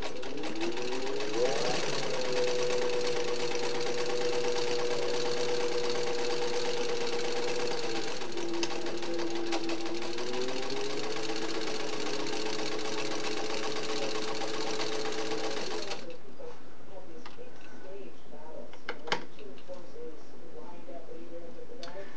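A Singer 15-91 sewing machine stitches a cover in a fast, steady mechanical chatter, with a motor whine that rises and dips in pitch. After about sixteen seconds it stops, leaving faint clicks and handling noise.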